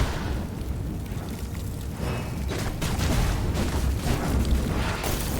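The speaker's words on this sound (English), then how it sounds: "And shooting us with fireballs" Fireballs launched at the player in the video game V Rising burst and whoosh in a dense run of booming blasts, loud and continuous and building toward the end.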